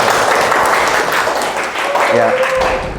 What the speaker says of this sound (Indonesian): Oke, silakan tepuk tangan.